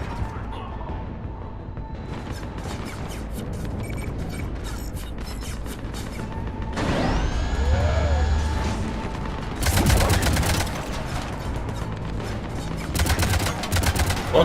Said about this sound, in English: Otra vez el rifle de asalto ridículo